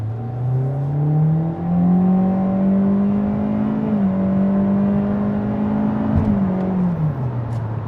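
A 2026 Hyundai Elantra SEL Sport engine pulls hard under throttle, its steady rising drone climbing in pitch, with a brief shift dip before it rises again, then it eases off near the end.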